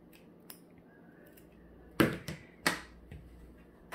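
Scissors snip through the loose string end of a wood bead garland, two sharp close cuts in quick succession after a few faint handling clicks.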